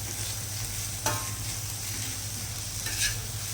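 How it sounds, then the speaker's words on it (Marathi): Chopped onions for misal pav sizzle and crackle steadily in a hot pan, close and continuous, with occasional scraping stirs cutting in briefly. "छान कांद्याला जोपर्यंत कलर आला नाही ना, तोपर्यंत छान भाजू द्यायचा मस्त असं."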